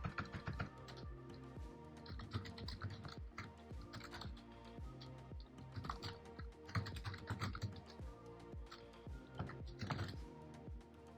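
Someone types a name on a computer keyboard, a quick run of close, crisp key clicks in an uneven rhythm with short pauses, no voices.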